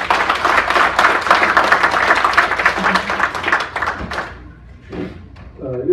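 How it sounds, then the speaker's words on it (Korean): An audience at a 2017 forum in New York applauds to welcome a speaker, a dense burst of clapping for about four seconds that fades, followed by a few faint sounds. "박수로 환영해 주시죠"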